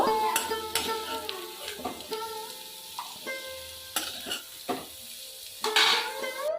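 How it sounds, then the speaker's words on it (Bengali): Potatoes fry in a pan for a jackfruit-seed vegetable chachori, a soft steady sizzle broken by sharp clanks and scrapes of a spatula against the metal, close and alone. "আলুগুলো হালকা করে ভাজা হয়ে গেছে এবারে আমি তুলে নেব"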